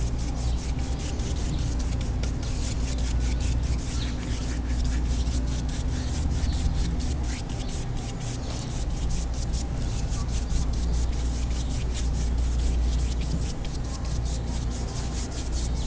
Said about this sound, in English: It's a little bit of a crisscross brush stroke.